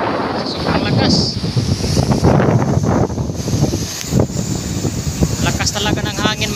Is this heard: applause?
no